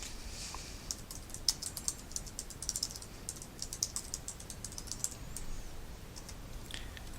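Computer keyboard typing in a terminal window, with rapid, uneven key clicks pattering continuously and fairly close, and no voices.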